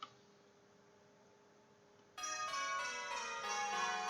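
Church bells in a bell-ringing simulator start abruptly after a quiet stretch of faint room tone, then ring in a bright, sustained overlapping peal that builds and stays loud.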